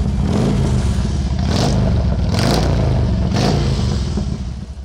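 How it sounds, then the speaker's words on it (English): Harley-Davidson motorcycle with custom exhaust pipes, a loud rumbling idle close by with several short rev blips spaced about a second apart. "The pipes have an amazing sound."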